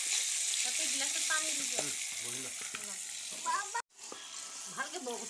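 Duck meat fries with ginger and garlic in a pan, giving a steady sizzle under intermittent talk, with a brief cut to silence midway.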